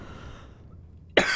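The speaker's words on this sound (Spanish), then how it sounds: "perdonad por la tos" A single sharp cough bursts out loudly near the end, close to the microphone, following a stretch of low background noise during a Spanish-language playthrough of the horror game Scorn.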